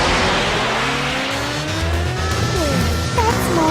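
Cartoon cars race with rising and falling engine whines, overlapping revving tones and brief tire squeals, loud and busy throughout.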